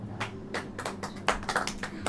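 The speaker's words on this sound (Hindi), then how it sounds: "ताली बजाइए।" A church congregation claps hands in a short run of uneven, fairly close claps, several distinct bursts over about two seconds with a low background hum.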